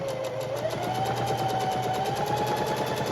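A domestic sewing machine stitching fabric for an envelope pillow, turning a corner along the presser foot edge, runs at a steady, rapid needle rhythm, close and continuous without any talk.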